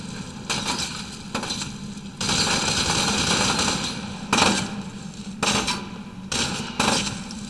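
Machine gun fire in the shooter game F.E.A.R. 2, sharp bursts of shots breaking out in several separate volleys over a low background rumble, fairly loud and close.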